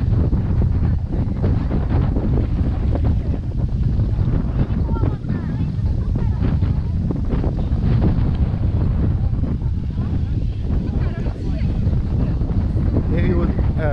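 Strong wind buffets the microphone nonstop at Elafonissi Beach on Crete, a loud, broadband roar with gusty rumble and faint surf mixed underneath, steady for the whole stretch.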